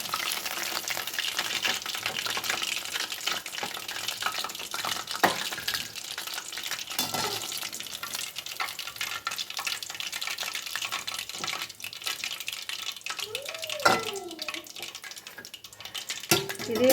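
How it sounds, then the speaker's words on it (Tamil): Chicken leg pieces fry in hot oil with a steady, fairly quiet sizzle and crackle that continues throughout, broken by a few brief clinks and stirring sounds near the end. "இதே மாதிரி மற்ற பீஸையும் நம்ம பொரிச்சு எடுத்துக்குவோம்."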